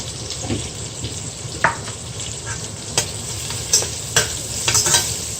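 Onions sauté in a pan for Filipino sinigang, a continuous close sizzle with irregular spoon-on-pan scrapes and knocks every second or so, no talking.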